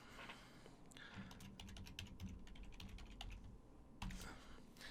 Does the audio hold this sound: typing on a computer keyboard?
yes